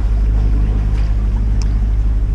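A sailboat motoring on the Mediterranean between Elba and Porto Santo Stefano, Italy, its engine a steady loud low drone close by, with water and wind noise over the top and no talking.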